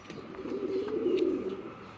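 Pigeons coo softly in a low, rolling murmur that holds steady for about two seconds, close by and moderately quiet, with no talk over it.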